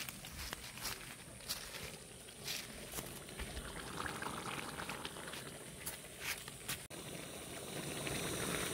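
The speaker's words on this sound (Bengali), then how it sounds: "এখন ফুটছে" Chicken curry bubbles in a pan, a faint, steady simmer of soft popping and gurgling with a few light clinks and thumps, no voices.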